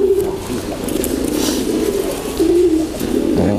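A dove coos loudly and close, its soft rolling notes repeating steadily across the moment, alone and without speech.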